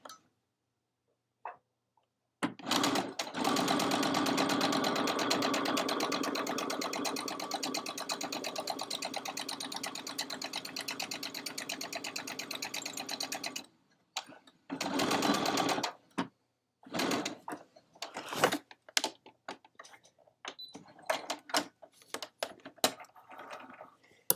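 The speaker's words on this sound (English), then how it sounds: "My needle down, and then we are going to stitch and then I'm just going to back it up a stitch to lock it." A sewing machine stitches a fabric stocking in a long, steady mechanical whir of rapid ticking, then stops and restarts in short bursts and clicks for backstitching, close and clear with little talk.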